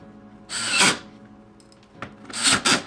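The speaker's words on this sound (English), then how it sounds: "then just attach the hinges to the frame" Cordless drill driving screws to fix interior door hinges to the frame, two short close whirring bursts separated by a brief pause, with light scraping in between.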